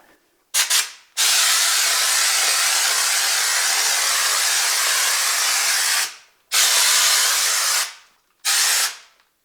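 A loud hissing spray of drywall texture onto a water-damaged drywall patch in four bursts: two short blasts, one long sustained spray, then two more brief ones.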